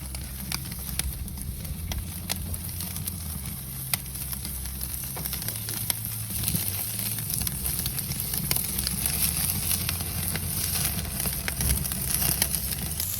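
A tomahawk steak sears on a Kamado Joe grill, giving a steady, even sizzle and crackle held at a constant level throughout with no talk.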